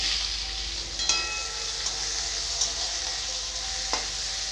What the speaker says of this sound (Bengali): তেলে 4টা শুকনো লঙ্কা দিয়ে দিব, 5 ফোড়ন দিয়ে দিব, একটু নাড়াচাড়া করে পেঁয়াজ দিয়ে দিব